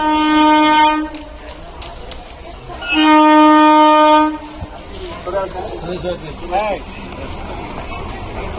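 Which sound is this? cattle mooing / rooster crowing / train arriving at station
train arriving at station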